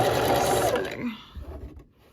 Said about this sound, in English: I'm gonna go ahead and just sew it with purple.